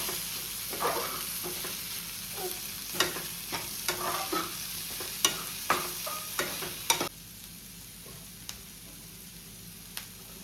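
Turmeric, chili powder and garam masala stirred into a pan for egg bhurji, a series of light spoon taps and scrapes over a low sizzle that then stops, leaving a quiet hiss with a couple of faint ticks.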